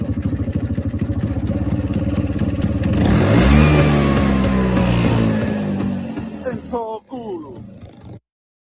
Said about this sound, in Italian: assolo di motore Piaggio 125